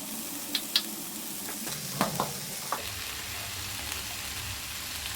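Chicken stir-frying with veggies, sesame seeds and the white part of spring onion sizzles steadily, with clusters of quick clinking stir and toss strokes near the start and middle.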